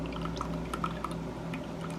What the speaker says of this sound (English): So I'm going to pour the rest of this in.